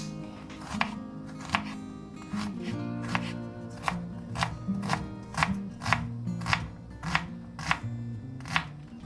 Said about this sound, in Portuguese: Vamos começar cortando a cebola, cortando todos os legumes, tudo bem bonitinho, quadradinhos, pequenininhos